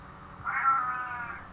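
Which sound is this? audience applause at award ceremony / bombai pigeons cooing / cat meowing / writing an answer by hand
cat meowing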